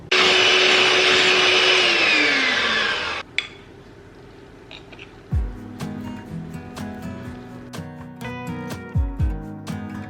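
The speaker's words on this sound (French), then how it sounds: "je vais monter une petite chantilly parfumée à la" Electric mixer whipping chilled cream into vanilla chantilly, a loud steady motor whir for about three seconds that winds down, followed by softer clinks and clatter of bowl and utensils.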